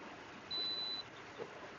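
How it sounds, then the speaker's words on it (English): A single thin electronic beep, a speed limit warning for exceeding 55, sounds for about half a second over a quiet, low hum of road noise inside a car driving through West Virginia. "That beep there was saying that speed limit is 55, and I was going faster than 55."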